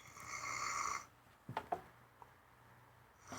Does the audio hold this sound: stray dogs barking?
no